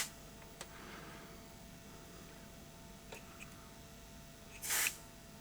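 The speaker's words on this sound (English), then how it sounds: "Let's try some actual freezer spray on those capacitors." A short hissing burst of freezer spray onto capacitors on the circuit board of a faulty Panasonic AG4700 video recorder near the end, after a few faint clicks over quiet background hum.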